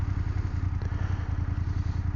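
A BMW F800GS motorcycle rumbles steadily and close by while braking, with a deep, even engine throb, light clatter, and no voices.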